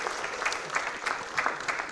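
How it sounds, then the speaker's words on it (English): An audience at a university convocation in Mumbai applauds a best startup idea award winner with dense, steady clapping that fills the hall without a break. "Let's clap."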